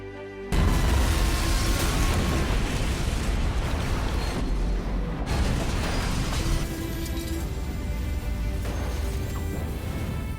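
A train explodes in a 2011 action film, a loud sustained blast and roaring rumble that fills the whole span with crashing, debris-like noise and no let-up.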